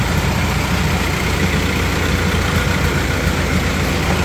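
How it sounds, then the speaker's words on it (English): A loud, steady Ford 2110 tractor engine idling close by, a constant low rumble with no talking. "I think now I'm gonna take out this red tractor"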